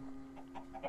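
Minecraft chickens cluck in short, soft bursts, several quick clucks spaced across a brief moment over a low hum.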